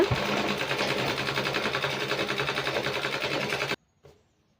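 A sewing machine runs in a steady rapid rhythm while stitching a blouse seam, loud and close for nearly four seconds before stopping abruptly, followed by a brief faint clack.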